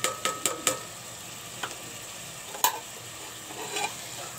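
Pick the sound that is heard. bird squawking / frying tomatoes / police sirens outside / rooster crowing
frying tomatoes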